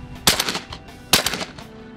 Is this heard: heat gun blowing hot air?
no